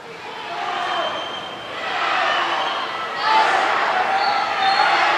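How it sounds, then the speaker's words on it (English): Hillsboro swim team cheering from the deck at an indoor swim meet finals, a sustained roar of voices swelling and surging over several seconds with echoing pool ambience. "The Hillsboro team cheering on Jake Marr."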